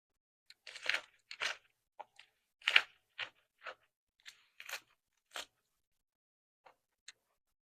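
Crunchy spring rolls are bitten and chewed close up, with a series of sharp, crisp crunches spaced irregularly over several seconds and quiet pauses between them.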